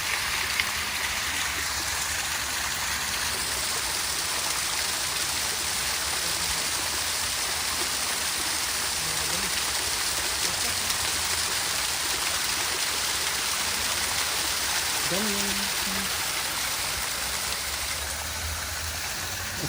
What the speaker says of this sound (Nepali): सायद सबैलाई मनपर्छ होला यो पानीको कलकल आवाज